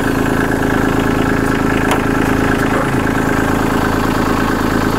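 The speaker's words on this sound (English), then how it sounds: "we'll crank it again, put it in PTO" A Kubota B2650 compact tractor's diesel engine idles steadily and loudly up close, a constant low throbbing rumble with no talk.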